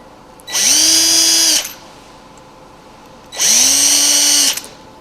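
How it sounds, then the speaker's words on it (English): A power drill with a very small bit bores mounting holes in a bottle opener of wood or epoxy resin, in two loud, close bursts of about a second each that whine up to speed and spin down. "we're just going to pre-drill the mounting holes with a very, very small drill bit."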